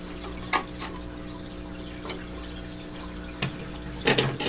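Water pours into a home fish tank in a constant rushing stream, with a few brief splashes and knocks rising above the flow and a low hum underneath.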